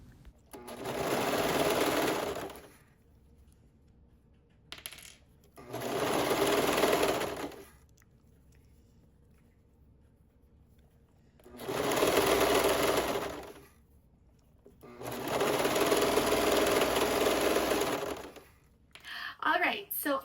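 A sewing machine stitches sleeves into a dress turned inside out, running in four distinct whirring bursts of a few seconds each, separated by near-silent pauses.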